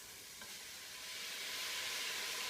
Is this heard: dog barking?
no